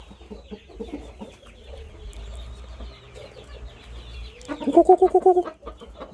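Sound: chickens clucking

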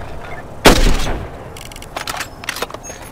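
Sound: sniper rifle shot at a laptop in Hitman: Sniper video game

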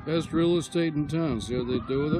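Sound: fire engine siren passing in the distance

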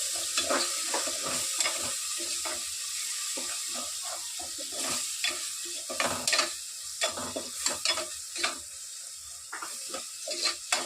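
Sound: ginger garlic paste being stirred and fried in oil

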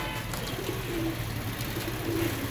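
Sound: pigeons cooing

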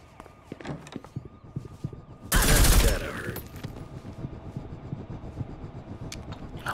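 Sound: rifle gunfire in video game Reservoir Dogs

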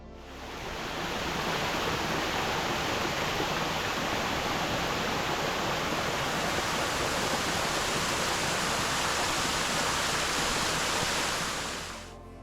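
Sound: waterfall

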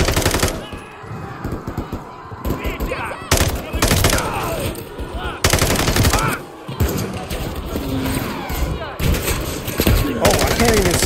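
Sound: gunfire in Call of Duty: Modern Warfare 3 video game

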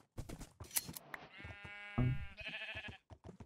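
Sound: sheep bleating while being sheared in a video game

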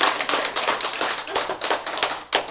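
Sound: audience clapping

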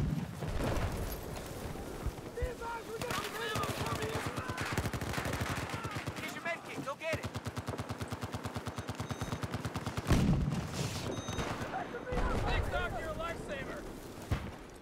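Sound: gunfire from the video game Battlefield 4

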